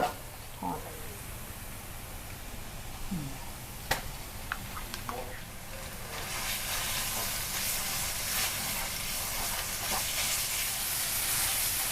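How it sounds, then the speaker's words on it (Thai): Pork filling for spring rolls is stir-fried dry in a pan with no stock added, giving a steady sizzle and hiss that grows louder and brighter partway through, with a few light clinks of a utensil. "จะผัดให้แบบแห้งๆนะคะ ไม่ใส่น้ำซุปอะไรทั้งนั้นเลยนะคะ"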